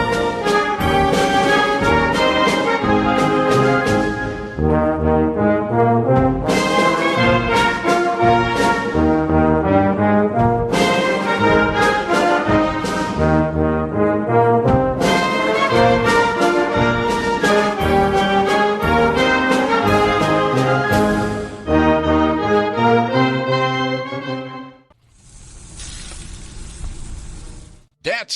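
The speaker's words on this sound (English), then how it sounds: "That's the sound of sizzling, dry-aged USDA Prime Wagyu and Angus steaks" A loud, busy stretch of music fills most of the clip before a few seconds of steady, hissing sizzle from dry-aged USDA Prime Wagyu and Angus steaks cooking close by.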